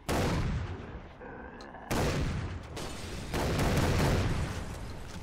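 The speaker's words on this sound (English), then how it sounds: "Oh, I hear fireworks." Rapid fireworks-like explosions in the video game Blood Dragon, a dense run of loud cracking blasts and booming bursts with a short quieter gap, no talking.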